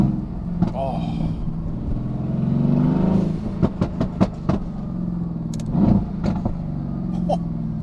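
Older Mercedes-AMG car with its exhaust button on, engine rumbling and revving from inside the cabin with a window down, with a run of sharp exhaust pops and crackles, while someone talks excitedly over it.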